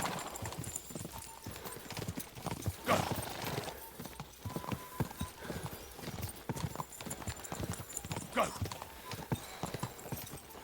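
A horse gallops in Kingdom Come: Deliverance II with continuous rhythmic hoofbeats, joined by an occasional whinny. A voice talks over the hooves throughout.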